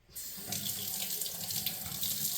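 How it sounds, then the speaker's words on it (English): Tap water runs into food bowls at a kitchen sink, a steady splashing stream that starts abruptly and continues close and moderately loud for a couple of seconds. "Come over to the sink. You're going to run some water in them."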